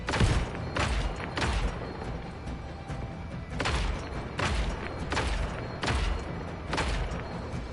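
Repeated gunfire bursts in the video game Just Cause 3, punchy and booming, fire in irregular succession over a steady rumbling background.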